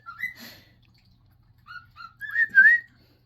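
A person whistles short melodic phrases, a couple of brief notes early, then a longer rising-and-falling whistle near the end, fairly close with quiet gaps between.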